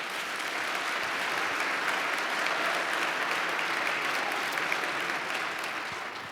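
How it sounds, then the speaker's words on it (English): Audience at a live conversation event with Mark Zuckerberg giving a round of applause, dense even clapping from a large crowd that swells briefly and then starts fading toward the end. "That's the first time I've ever gotten applauded."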